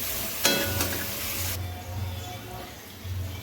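Vegetables are sautéed and stirred in a pan with a spoonful of salt. A loud, steady sizzle fills the first one and a half seconds, then settles into a softer hiss with occasional spoon scrapes.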